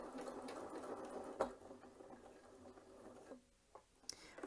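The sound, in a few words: sewing machine stitching a bar tack on a buttonhole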